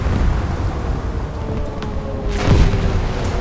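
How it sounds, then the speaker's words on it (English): A warship's conning tower blows apart in a naval video game battle, a broad rumbling boom that swells near the end over steady low background noise, with no voices. "Oh, my conning tower just got exploded again."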